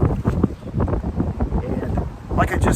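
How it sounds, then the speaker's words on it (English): Strong gusty wind buffets the microphone while riding a Giant e-bike on a bike path near the horse park in Lexington, Kentucky, a loud rumbling roar with surges near the start and end. "it is incredibly windy out today"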